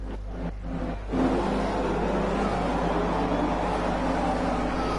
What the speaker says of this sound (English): We hear the howl of the motors.